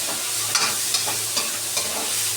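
Tomatoes sizzle in a frying pan, a constant hiss punctuated by regular scraping stir strokes roughly every few tenths of a second, close and clear.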